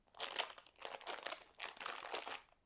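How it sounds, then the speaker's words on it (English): Plastic toy packaging for a Scribble Scrubby dinosaur crinkles in several quick, soft bursts of rustling and crackling, close by and fairly quiet, with no talking. "Sorry about all the crinkling."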